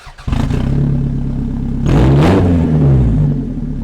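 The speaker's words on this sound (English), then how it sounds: "I suspect there might be a slight exhaust leak." A worn 1997 Toyota RAV4 engine with a slight exhaust leak idles roughly, then revs up sharply and settles back, loud and close with a raspy, rattling edge.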